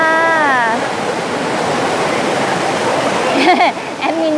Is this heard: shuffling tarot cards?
no